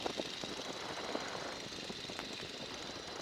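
A small airplane's piston engine hums steadily in flight after the power is eased back, a continuous droning tone with light irregular knocks and rattles, close and moderately loud, no talking.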